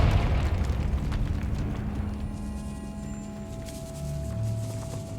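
A Confringo fire spell explosion in Hogwarts Legacy, set in a decaying catacomb, bursts loudly at the start with a booming blast, then fades into a low rumble with crackling debris and faint tonal hums.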